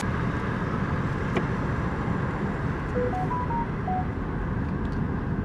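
Steady broadband road rumble of a car driving, continuous and fairly loud throughout, with a few faint short beeps partway through.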